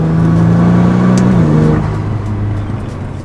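A Nissan GT-R R35 at full throttle gives a loud, close engine roar, its pitch shifting down about halfway through as it pulls hard, then carries on at a lower steady drone.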